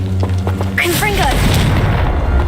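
A Confringo fire blast spell goes off in Hogwarts Legacy: a loud booming explosion that bursts in partway through and rolls on as a dense, sustained roar, with a voice heard briefly at the start.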